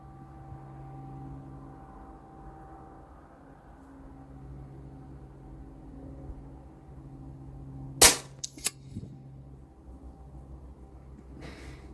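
An AGT Vixen air rifle fires at a target set 60 metres out, past spinner targets. There is one sharp, fairly loud shot with a couple of quick smaller cracks or impacts just after it, over a steady low hum, and nobody talks.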